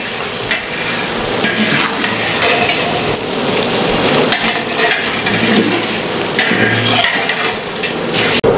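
Beef sizzles and fries in a pot for a degi pulao, a dense, loud, continuous crackle like heavy rain, with occasional knocks and stirring clatter and no talk.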